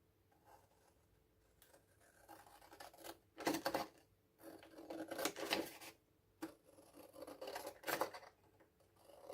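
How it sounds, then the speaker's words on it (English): Scissors snip through paper to cut out back pockets, giving bursts of crisp cutting strokes separated by quiet pauses, close and fairly soft. "the next thing I'm going to do is cut out the back pockets. Should be right to do this with scissors."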